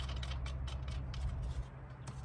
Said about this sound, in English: now we'll start putting bolts back in